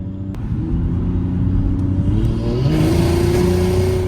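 A turbocharged Lexus IS300 engine revs hard while misfiring, a loud, rough, uneven rumble that climbs in pitch near the end.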